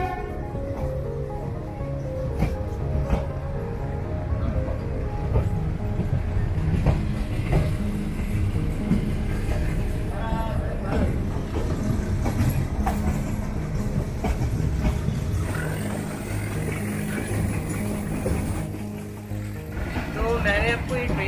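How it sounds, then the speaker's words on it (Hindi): A meter-gauge narrow-gauge train runs slowly in India, with a continuous rumble, clanking and rattling from the carriage heard from inside, loud and steady throughout. "तो बहुत स्लो ट्रेन है और बहुत आहिस्ते आहिस्ते जाती है।"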